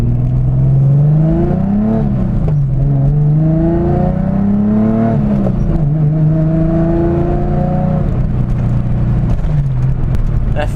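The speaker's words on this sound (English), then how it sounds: "Downshift sounds so good." A BMW E30 engine stroked to 2.7 litres revs up and down through several downshifts, its pitch rising and falling with a loud, steady throaty drone throughout.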